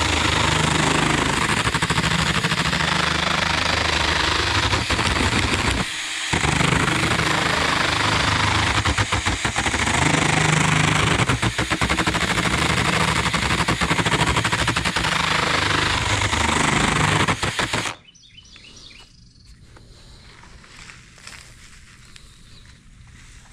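A shop dust collector runs in fast mode, a loud, steady broadband roar with rattling for about eighteen seconds, briefly dipping near six seconds, then cutting off sharply to a quiet background.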